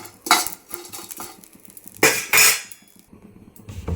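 Fried dried prawns for a tomato curry being spooned from a pan into a bowl, with sharp metal scrapes and clinks in uneven bursts, two loud close strokes in the middle and quieter tapping around them, no speech.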